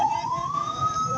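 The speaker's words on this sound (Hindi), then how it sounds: "एम्बुलेंस के लिए रास्ता बनाया," An ambulance siren at a street protest in Toba, Pakistan, a single steady wailing tone rising slowly in pitch, fairly close over low traffic rumble.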